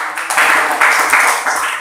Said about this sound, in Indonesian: Tepuk tangan lagi, beri aplaus.